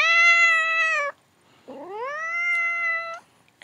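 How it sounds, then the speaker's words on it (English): A cat gives two long, drawn-out meows, close and loud, with a short pause between them and no other sound around. "have a cat today, but she doesn't want to be here."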